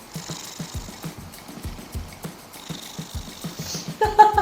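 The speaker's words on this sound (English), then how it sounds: "you could actually hear him purring into the microphone" Oreo the cat purring close to a microphone, a soft rhythmic rumble of repeated low pulses, with a brief brighter rustle at the very end.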